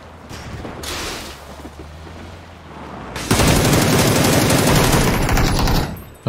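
Shotgun fire in the PC battle royale game PUBG: loud, dense bursts of gunfire that pick up sharply midway and carry on steadily with rapid repeated shots, heard without any talking.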